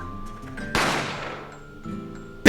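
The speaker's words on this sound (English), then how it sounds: "A gunshot rang out from the dining area." A single loud gunshot sound effect from The Great Ace Attorney bursts out sharply over soft game music, then rings away into a decaying tail, and a second sharp hit begins at the very end.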